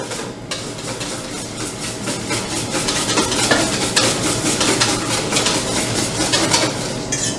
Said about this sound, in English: whisking as I add the oil